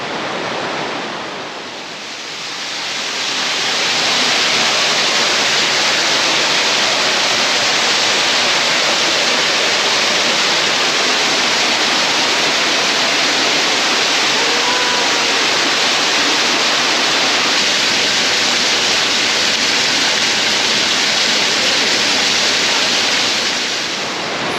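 A waterfall at Manning Gorge on the Gibb River Road roars as a loud, steady rush of falling water, dense and continuous after a brief swell at the start.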